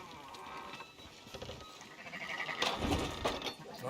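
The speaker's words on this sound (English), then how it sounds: "Fine sheep." Sheep in Red Dead Redemption 2 give a few wavering bleats over soft ambient game noise, fairly quiet and close.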